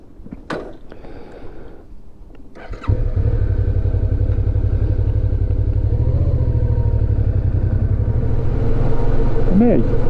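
Motorcycle on a road trip near Letchworth State Park in New York: after a few seconds of clatter, the engine kicks in with a loud, steady low rumble that runs on at a constant pace, close and dominant.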